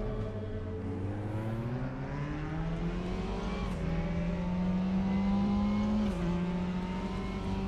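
A Mazda MX-5 engine in the RaceRoom racing game revs steadily and loudly, its pitch climbing and holding high with a brief dip near the end, continuous with no talk over it.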